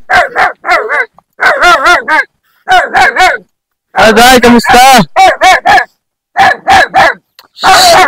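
A dog barks repeatedly in close, loud bursts at a rural Philippine house, with a few short pauses between rounds; a person speaks briefly during the barking.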